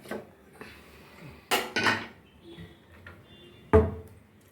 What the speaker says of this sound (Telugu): మూత పెట్టి కుక్కర్ తీసుకో